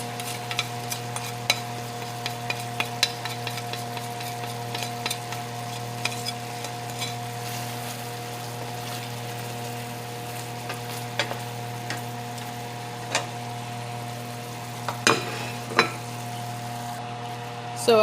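Salmon with seasoning sizzling steadily in a pan, a continuous close fry with scattered crackles and a few louder pops toward the end, with no talking.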